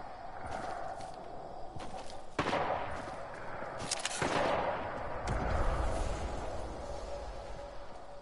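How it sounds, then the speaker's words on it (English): Sniper rifle shots ring out across a video game shootout, several sharp distant cracks scattered irregularly over a steady ambient bed, with no talking. "Just listen to all of that sniping."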